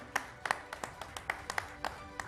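Scattered, uneven hand claps at an awards event welcoming a guest on stage, about nine sharp claps over two seconds, fairly close and moderately loud, with a faint room murmur beneath.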